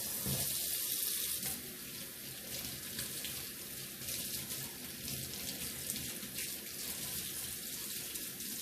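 Tap water runs steadily into a sink for a rinse while repotting orchids, a continuous broadband splash close by with no talking.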